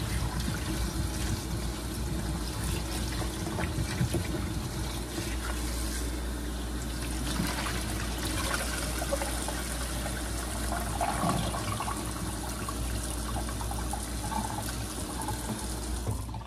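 Potatoes are rinsed in water in a kitchen, a continuous loud splashing and swishing with sloshing surges and no talk.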